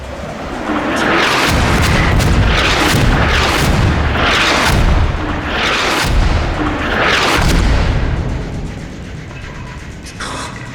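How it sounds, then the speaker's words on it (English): Mortar barrage from a military helmet camera feed: a steady run of heavy booming explosions, about one every second, loud and close, with the rumble rolling on between impacts and fading toward the end. "More mortars, another barrage incoming, another barrage incoming."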